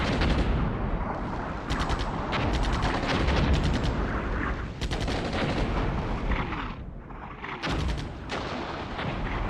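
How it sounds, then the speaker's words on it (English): Artillery fire in the war game Armored Brigade 2: repeated heavy booms and crackling blasts rolling one after another, loud and dense across the whole stretch with barely a pause. "Now they're taking some artillery fire."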